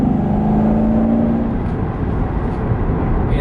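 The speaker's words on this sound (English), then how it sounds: "somebody slowed down, so I gotta downshift" A manual car with a seven-speed gearbox drones steadily while following slower traffic. The engine note holds a steady pitch, then drops as the driver downshifts, continuing as a loud, close rumble with no talk.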